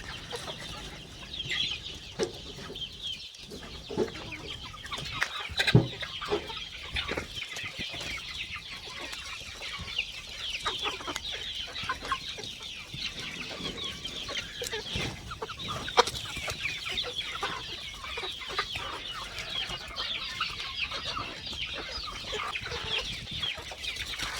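Chickens cluck steadily throughout, several birds overlapping in a busy, continuous chatter at moderate distance, with no talking.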